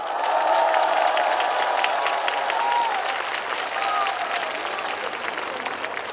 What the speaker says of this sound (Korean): 이 정도 박수로는 김민석 총리님께서 더 빨리 사업을 추진할 수 있도록 더 큰 박수를 보내주셔야 됩니다.